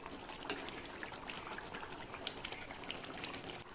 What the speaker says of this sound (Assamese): পোহালৈকে উতলি থাকক